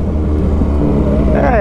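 A brand-new Yamaha MT-09 motorcycle fitted with a Jeskap exhaust rumbles steadily up close, its deep idle swelling into a rising rev toward the end.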